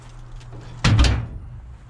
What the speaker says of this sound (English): It's time to close that door.